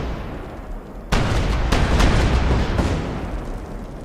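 Gunfire in the Smalland survival video game: a loud report at about one second, then further sharp shots and bursts over a sustained booming wash, with no voices.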